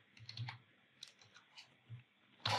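Quiet computer keyboard typing, a handful of soft clicks spread unevenly with short gaps and a louder burst of keystrokes at the end, heard alone without talk while entering Python socket code.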